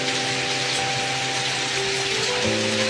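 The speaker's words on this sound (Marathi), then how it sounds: "कारण खूपच पाऊस पडतोय आज सकाळी सकाळी तो पण" Heavy monsoon rain pouring in Bengal, a dense, constant roar of falling water filling the space with a low steady hum beneath, no voices.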